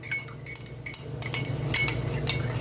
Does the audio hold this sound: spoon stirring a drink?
yes